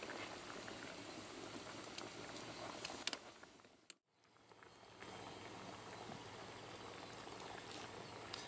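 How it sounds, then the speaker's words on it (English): A pot of Thai green curry boils vigorously with steady bubbling and popping, a dense continuous simmer that briefly drops away and then resumes at full strength. "As you can see, it's boiling its head off."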